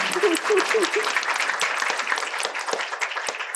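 Sustained applause from the audience at an education event, many hands clapping in a thick, even patter, with a brief tonal voice-like sound near the start.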